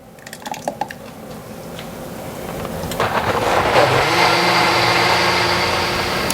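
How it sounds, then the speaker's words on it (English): Thick pureed broccoli cheese soup pours from a pot into a blender pitcher, starting with a few wet plops and drips, then building into a steady, close liquid gush that runs on to the end. "I think I can pour the rest of that in."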